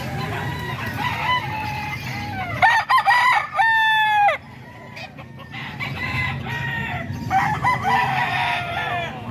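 A young rooster (stag) crows loudly and nearby several times, with clucking and other fowl calls around it at a poultry market.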